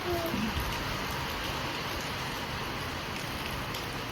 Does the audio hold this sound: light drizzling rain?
yes